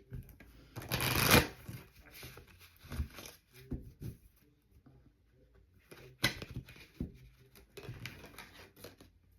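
Astrology reading cards shuffled by hand in a series of close riffling and sliding bursts, one loud flurry early and another later, with soft handling sounds between and no talking.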